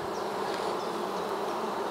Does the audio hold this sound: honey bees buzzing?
yes